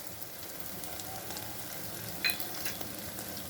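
An egg fries in a pan with oregano, chili flakes and a pinch of salt, giving a steady, close crackling sizzle throughout, broken by a single sharp metallic clink partway through.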